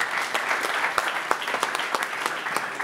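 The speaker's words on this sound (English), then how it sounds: "Big applause." Applause from a startup competition audience after a pitch, moderately faint continuous clapping with a few sharper individual claps standing out.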